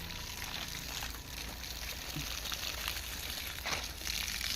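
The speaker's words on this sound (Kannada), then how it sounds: "ನೀರು ಬಿಡ್ತಾ ಇದ್ದೇವೆ" Water runs steadily from a hose onto garden plants, including Malabar spinach, making a soft, continuous splashing hiss outdoors with no talking.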